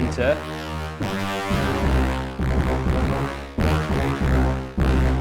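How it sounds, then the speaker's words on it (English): A deep horn-blast sample from a Roland MC-707 groovebox is triggered repeatedly, each long droning blast cut off sharply before the next, loud and close, with a brief spoken word near the start. "It sounds like horn blast."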